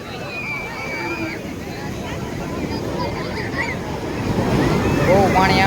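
Sea water rushing and waves washing onto a shore, a loud continuous surge with wind buffeting, swelling stronger toward the end, with distant voices faintly in the background.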